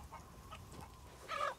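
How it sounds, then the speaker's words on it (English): Chickens cluck softly in the Resident Evil 8 village, a few faint scattered clucks over quiet ambience, ending in a louder burst of clucking near the close. "Chickens."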